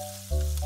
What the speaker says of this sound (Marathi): आई, तुझे मासे तळून झाले का?